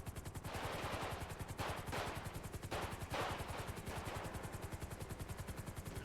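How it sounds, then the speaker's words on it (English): Rapid, steady gunfire crackles through a heavy exchange of fire in a GTA V FiveM roleplay game, the bursts running continuously and sounding fairly distant. "Heavy exchange of fire here."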